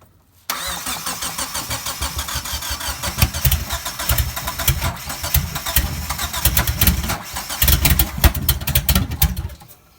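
A Mitsubishi Eclipse GST running a junkyard Hyundai engine cranks and fires on a cold start after a brief silence, then settles into a loud, close, steady rumbling idle with uneven pulsing for the rest of the clip.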